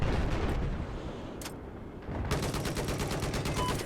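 Rapid automatic gunfire in Battlefield 4 aimed at an incoming missile: a loud sustained burst at the start, a brief lull, then another dense stream of shots close by.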